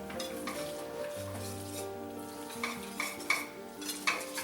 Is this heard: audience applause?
no